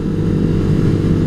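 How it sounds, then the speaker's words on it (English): Steady, loud motorcycle engine rumble held close throughout with no audible change in pitch, from a rider running errands on the road. No one talks. "random motorcycle."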